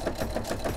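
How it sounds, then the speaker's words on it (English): A sewing machine stitches fabric for an oven mitt, a steady close-up mechanical whir with rapid rhythmic needle pulses and no talking. "Put the presser foot down, and I'm going to sew"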